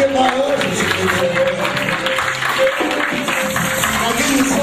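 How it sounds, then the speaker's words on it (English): A church congregation at a full gospel service gives a loud, sustained round of clapping in praise of the ushers, with music and voices mixed into the dense crowd noise. "you always give them a quiet, big hand clap, clap of praise"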